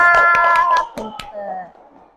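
A class of young schoolchildren clap their hands together in a classroom, a burst of sharp, fairly loud claps in quick rhythm that fades into voices talking.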